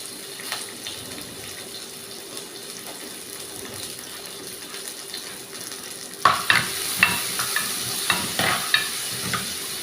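Small shallots and curry leaves hit hot oil in a pan. A steady hiss runs at first, then a louder burst of crackling sizzle starts partway through and keeps popping irregularly, close and without voices.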